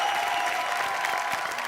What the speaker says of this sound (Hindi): और जबरदस्त तालियां रवि भैया के लिए रे